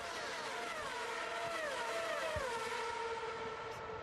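SuperLeague Formula race cars pulling away at the start at Monza, a steady roar of several engines with rising and falling whines sweeping through, continuous and fairly loud throughout.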